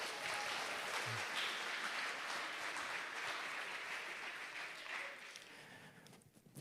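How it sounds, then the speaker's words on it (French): An audience at a children's presentation applauds steadily at moderate distance, a fairly soft, even wash of clapping that tapers off near the end. "on peut l'applaudir"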